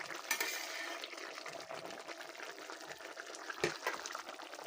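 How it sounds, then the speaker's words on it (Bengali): Curry broth for a mola fish chorchori bubbles in a pot, a faint, busy simmer with soft liquid gurgles and a couple of light clinks of utensils. "তো তরকারির ঝোলটা আমার খুব সুন্দর করে একদম ফুটে গেছে।"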